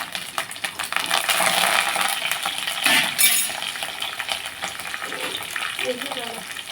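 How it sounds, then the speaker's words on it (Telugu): Spice tempering for rasam crackles and sizzles in hot oil, a steady dense hiss close by with a brief louder burst midway and a few metallic clinks, while a person talks over it. "చారుకి పోపు వేసుకుందాం"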